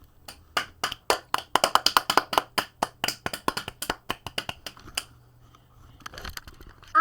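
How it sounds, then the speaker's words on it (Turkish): A small group claps in a quick, uneven burst, the sharp slaps crowding together loudly at first and then thinning into scattered claps before fading. "Çok büyük bir alkış istiyorum lütfen."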